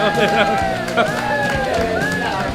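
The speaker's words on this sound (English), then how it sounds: "the fan club's over here cheering for him" A fan club cheers and whoops for a player at a poker final table in an Australian RSL club venue, lively crowd noise with shouts and scattered claps, loud and close, mixed with babble.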